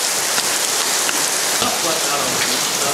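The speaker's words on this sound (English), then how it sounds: "The rain's still coming down" Heavy rain pours steadily at a beach pier on Fort Myers Beach, a dense, continuous hiss of drops close by with scattered louder spatters and no clear speech.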